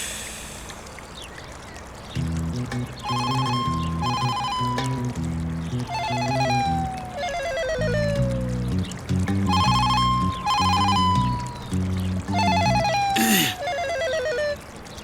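A telephone rings repeatedly in melodic ringtone phrases, each burst a run of bright tones with a gliding note, looping loudly and steadily with short gaps between rings.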